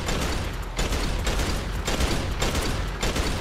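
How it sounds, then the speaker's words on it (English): Gunfire in a battle royale video game, dense rattling fusillades arriving in repeated bursts with short gaps, loud and close throughout. "They're shooting Deadpool."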